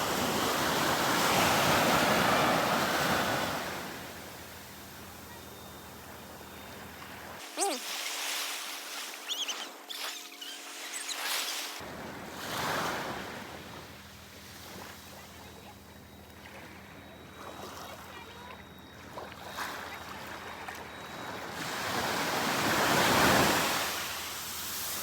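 Ocean surf breaks and washes onto a beach in loud rolling swells, rising and falling, with wind buffeting the microphone and a brief quieter stretch between waves.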